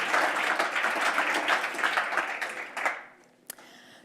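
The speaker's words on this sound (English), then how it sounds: "So let's give that a round of applause" A conference audience at a humanitarian news outlet's launch event in Geneva breaks into sustained applause, dense steady clapping for nearly three seconds before fading out, ending with one sharp clap and quiet.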